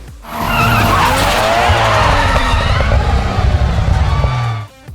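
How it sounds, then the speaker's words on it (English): A Nissan Skyline GT-R R34 power slides with loud, sustained tire squeal and skidding over a roaring engine, close and continuous for several seconds before cutting off. "who could forget Paul Walker's Skyline R34 power sliding its way to victory in Too Fast, Too Furious?"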